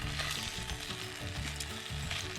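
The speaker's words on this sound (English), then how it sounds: "I cook my bacon, I usually flip it frequently." Bacon frying in a skillet for a breakfast dish, a steady close crackling sizzle with continuous spitting fat throughout.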